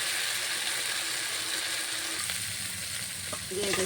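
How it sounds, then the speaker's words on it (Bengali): Egg curry masala paste fries in hot oil while being stirred, giving a steady, close sizzle with faint scraping of the spoon throughout and no speech. "এটাকে এবার ভালো করে নেড়ে চেড়ে ভাজা ভাজা যখন হবে, তেল ছেড়ে দেবে"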